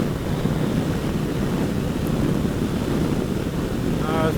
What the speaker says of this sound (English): It's pretty windy up here now